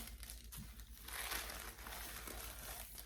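Tissue paper from the packaging of a Lady Dior pouch crinkles and rustles in soft, irregular bursts, faint and close-up, swelling briefly before settling into continued light crumpling.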